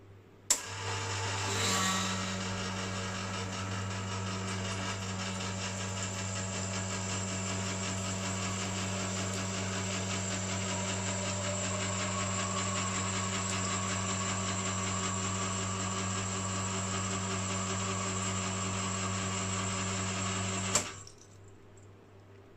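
A Victoria Arduino E1 Prima espresso machine's pump starts with a click and runs as a steady, close mechanical hum with a bright whine for about twenty seconds, then cuts off with another click.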